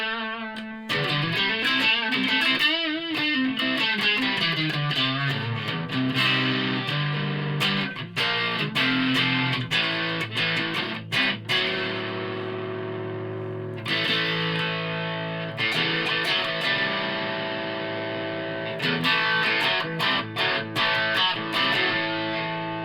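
An electric guitar runs dry through a JOYO British Sound overdrive pedal with no reverb, giving a loud, continuous distorted tone of chords and riffs with brief pauses and pick attacks, and no voice present.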